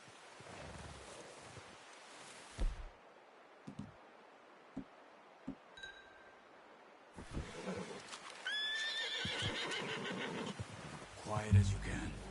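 A horse whinnies and hooves clip-clop in the Red Dead Redemption 2 wilderness, scattered soft thuds and wind, then a sharp whinny and louder movement near the end, with voices talking over parts.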